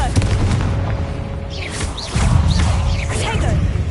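Confringo explosion spell going off in Hogwarts Legacy, a loud booming blast with rumbling low end, whooshing swells and creaking mechanical tones, sustained and dense throughout the moment.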